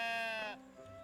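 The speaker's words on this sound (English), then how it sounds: "There's a sheep." A sheep bleats once in the cozy village-building game Tiny Glade, a clear, wavering cry that fades after about half a second, followed by faint ambient game sound.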